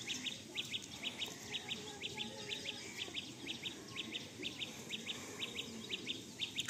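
Pigeons in a full loft give repeated short chirping calls in a regular, rapid rhythm over a continuous low rumble of background noise, moderately near.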